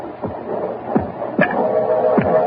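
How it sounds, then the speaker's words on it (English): Slow, regular heartbeat sound effect from a radio drama, four soft low thumps spaced under a faint steady hum. "that noise you hear is his heart. The beating of his telltale heart."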